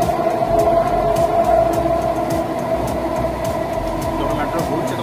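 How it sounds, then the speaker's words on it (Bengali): Kolkata metro train running between Sealdah and Salt Lake, a steady loud rumble and rail roar with a persistent mid-pitched whine and faint periodic clatter, continuous throughout with a voice murmuring underneath. "যখন মেট্রো ঘুরছে তখন কেমন লাগছে?"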